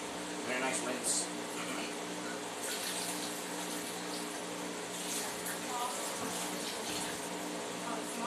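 Running water rinsing a cooking board, a steady close splashing gush from a tap lasting several seconds, with someone talking over it.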